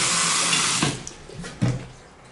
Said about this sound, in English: Pedestal sink. Beautiful water pressure.